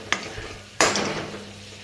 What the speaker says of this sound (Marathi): सगळा मसाला असा भाजला पाहिजे, गोळा झाला पाहिजे